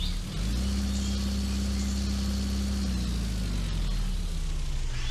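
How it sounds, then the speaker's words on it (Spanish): A video-game car engine built in FMOD and Unity drones steadily at a loud, constant pitch, then its revs sweep smoothly downward partway through, with no other sound around it. "ya tengo el motor de coche cambiado"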